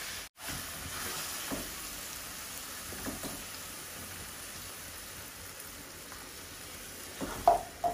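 Potatoes and dried fish frying together in a pan, giving a steady broadband sizzle throughout with a few faint scrapes and clinks near the end; no one talks.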